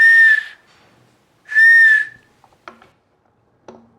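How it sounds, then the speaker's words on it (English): A toy whistle from a toddler toy range is blown twice in two steady shrill blasts of about half a second each, followed by a few faint clicks and knocks of handling. "we've got a whistle."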